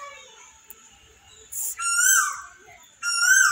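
An Asian koel calls in a home garden, giving loud rising whistled notes in two bursts after a quiet stretch, against faint background chirps and soft household noise.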